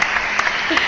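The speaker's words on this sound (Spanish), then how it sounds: "Muy bien, tiro aplausos." Short burst of applause from a small audience at an acoustic music session, steady and close, with faint voices mixed in.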